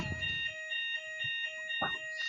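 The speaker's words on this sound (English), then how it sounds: "Did you say fire alarm or doorbell?" An alarm sounds with steady high-pitched electronic tones, fairly faint, with a few brief voices and thumps breaking in.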